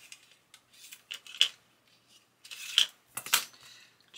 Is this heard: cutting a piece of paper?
yes